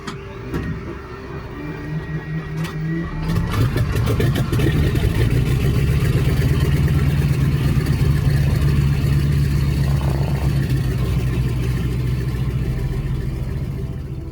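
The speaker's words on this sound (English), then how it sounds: "That radial engine catches and all 9 cylinders fire in sequence" A Pratt & Whitney nine-cylinder radial engine on a WWII SNJ-4 trainer aircraft cranks with a rising whine, then catches into a loud, throbbing roar that holds steady before easing slightly at the end.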